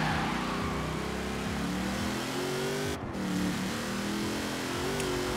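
A car engine in Forza Horizon 4 roars continuously at high revs, the pitch climbing through gear shifts with a brief dip in the middle, loud and sustained without talk.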